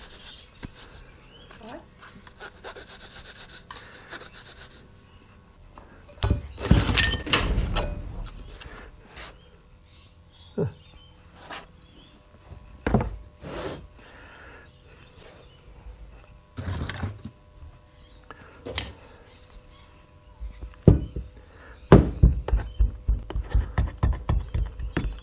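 Sand being rammed into small casting flask boxes while making an aluminium vacuum jar cracker: bursts of dull thumping and rattling pounding, some clustered and some isolated, loud and close, separated by quieter shuffling.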